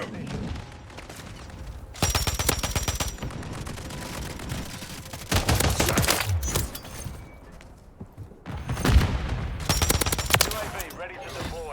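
Rapid automatic gunfire crackles in bursts during a Modern Warfare 3 Domination match on the Rust map. Loud volleys alternate with quieter stretches, and short radio-style game voice callouts come through between them.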